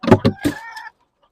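Chickens kept outdoors cluck loudly and close, with three quick clucks followed by a longer drawn-out squawk, then silence.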